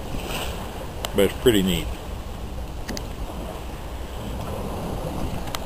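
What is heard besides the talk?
sailboat climbing upwind through waves and wind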